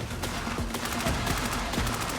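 Rapid bursts of gunfire crackle in quick succession during a shooting challenge between assassins and soldiers, sharp repeated shots over a dense, noisy background with no talking.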